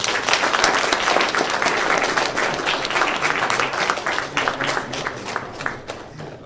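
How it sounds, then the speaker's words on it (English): Lively audience applause at the close of a university lecture on bionics, dense and fairly loud clapping that thins slightly toward the end. "Let's give a big round of applause."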